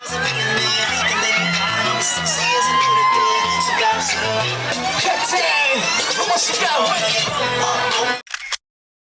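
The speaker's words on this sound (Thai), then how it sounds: "ให้เขาตะโกนไปครับ" A large crowd at a political rally in Thailand shouts and cheers loudly and continuously, with overlapping voices and whoops, before cutting off abruptly near the end.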